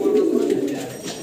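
A Bombay pigeon coos loudly and close by, one low, rolling, continuous coo that fades slightly toward the end.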